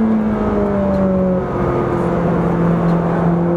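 A Ferrari 458 Speciale accelerating hard, its engine note rising in a steady, loud, close drone with shifting tones as speed builds, and no talking over it.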